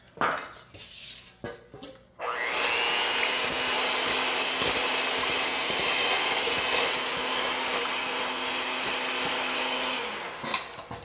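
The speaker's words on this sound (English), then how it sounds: "Now we're going to mix the wet together" Wet ingredients for chocolate cupcake batter mixed with a steady, loud electric whir that starts abruptly after a few clinks and runs unbroken for about eight seconds before cutting off.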